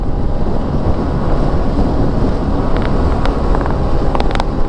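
Steady, loud headwind roar buffets the microphone while riding a Honda PCX160 ABS scooter at top speed into the wind, a continuous broadband rush with no talk.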